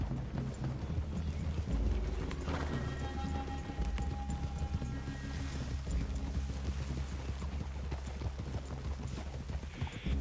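Horses walking with steady clip-clop hoofbeats in Red Dead Redemption 2, riders dismounting near a woodland clearing before a cabin, with a faint tone and other game ambience mixed underneath.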